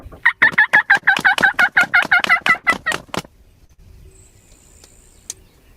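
Two different turkey mouth calls, blown by a person imitating two hens flying down from the roost, give a fast run of about fifteen loud, close cackling yelps, then fade to near silence with faint insect chirping.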